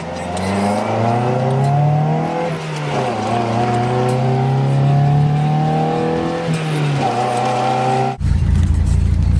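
Mazda Miata driving to bed in fresh brake pads, the engine revving up and easing off through several gear changes, close and loud, ending with a burst of wind or road noise.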